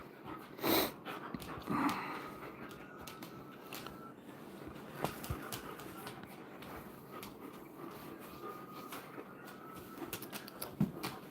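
A dog snoops around in household trash, making faint, close sniffing, snorting and rustling sounds in a quiet room, with scattered small clatters.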